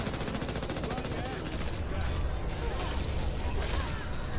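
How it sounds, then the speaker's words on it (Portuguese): Large enemy opening fire in Back 4 Blood: dense, rapid automatic gunfire that rattles on without a break for the whole stretch, loud and close. "Grandão atirando."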